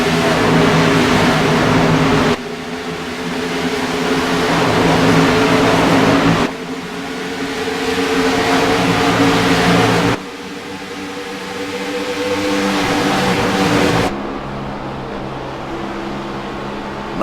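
Race cars roar as they accelerate away at a green-flag start at Kansas Motor Speedway, a loud sustained engine drone in repeated rising surges with gear-change breaks, close and continuous.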